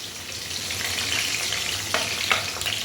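Garlic, ginger and onion fry in a pan for a Kerala-style chicken curry, giving a steady close sizzle and crackle, with a couple of sharper stirring scrapes near the end.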